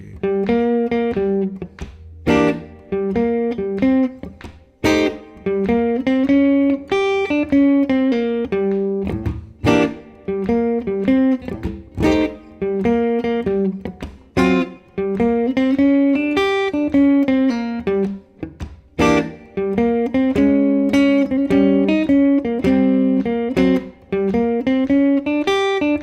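Solo guitar playing blues chords and double stops, a continuous rhythmic run of plucked chords and sliding two-note phrases, close and clear with no talking.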